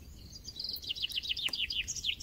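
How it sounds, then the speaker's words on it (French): Birds chirping and singing in rapid repeated bursts in spring countryside, with a light breeze adding a soft low rumble underneath; no talk. "cette nouvelle méditation que j'enregistre à la campagne, au milieu des oiseaux et sous une brise légère"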